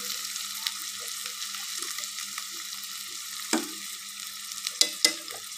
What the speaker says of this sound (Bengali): দিয়ে দিচ্ছি অনেকগুলো কুচানো পেঁয়াজ। পেঁয়াজগুলো আমি একটু লাল লাল করে ভেজে নেব।